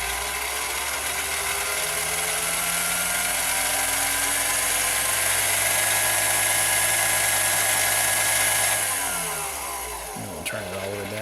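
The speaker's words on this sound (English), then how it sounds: "Let me turn up the" A lathe running with a steady high motor whine that climbs slowly as the speed is turned up, then drops away and winds down near the end.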